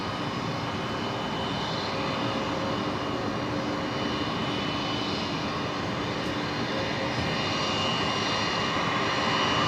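Jetstar jet engines run at Brisbane Airport at twilight after pushback, a steady, even whine and rumble that holds without a break from start to end, fairly close and alone.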